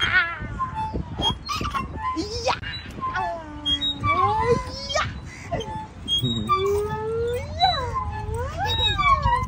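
A cat meows repeatedly indoors with drawn-out, wavering cries that rise and fall, some whiny and yowling, fairly close and continuous across the stretch over a low background.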